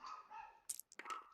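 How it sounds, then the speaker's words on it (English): A Chihuahua barks indoors in a few short, sharp yaps close by, breaking through a tonal background sound. "Sorry about the dog."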